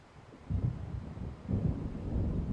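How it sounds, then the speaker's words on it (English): Distant thunder rolls in as a storm approaches in Alan Wake, two low, soft rumbles swelling one after another over quiet background wind, faint and far off with no speech. "It seems there's a storm coming."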